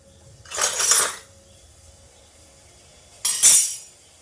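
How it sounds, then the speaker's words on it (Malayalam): Two short, bright clatters of a spoon and dishes being handled in a home kitchen while spinach is cooked, close by and separated by a quiet pause, with no talking. "സ്പൂണൊക്കെ എടുക്കട്ടെ."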